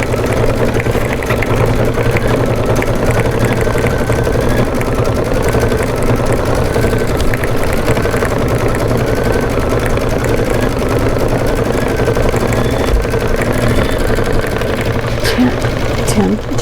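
An embroidery machine stitches a decorative border around a flamingo design, giving a steady mechanical whir and rapid needle chatter that runs continuously underneath a speaking voice.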